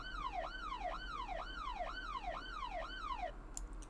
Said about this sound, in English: This is a siren sound from a Julian Jordan sample pack.